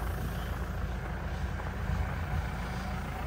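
Low, steady engine rumble of an idling tractor at night beside a hose reel, continuous and fairly close, with no voices.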